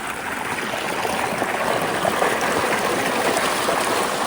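Water runs in a steady, rushing flow, like a stream or open channel in farm fields in Punjab, continuous and fairly close, with no voices.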